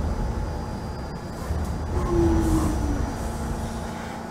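A New York subway N train running in Trainz Simulator 2012, a steady low rumble of rolling wheels with a brief high squeal midway, swelling slightly toward the end.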